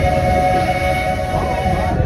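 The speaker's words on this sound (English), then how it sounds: "stay seated until our train comes to a complete stop" The Walt Disney World Railroad train pulls into Main Street, USA station with a loud, sustained horn or whistle tone over a rolling rail rumble.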